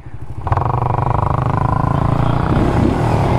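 Motorcycle ridden on the road, its engine rising to a steady loud drone after a brief quieter start, running continuously close by with a rough, throbbing note.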